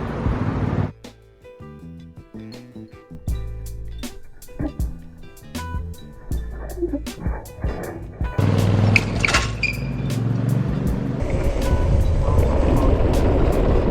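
An electric scooter rattling over a bumpy road, with dense clatter and repeated sharp jolts from the rough surface, then a louder rushing roar of wind and rolling noise building toward the end, close and continuous.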